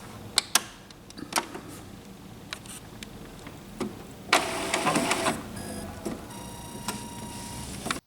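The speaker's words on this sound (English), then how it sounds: "Turn off the printer and turn it on again." Mechanical whirring and clicking from an Epson XP-345 inkjet printer powering on, with sharp clicks, a burst of motor noise in the middle, then steady low humming.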